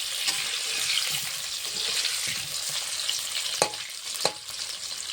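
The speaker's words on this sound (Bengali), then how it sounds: "তখন আলুটা ভাজা হচ্ছে" Potatoes frying in a pan for a mutton dish, a steady close sizzle broken by a few sharp clicks and knocks of utensils, with a faint watery undertone and no speech.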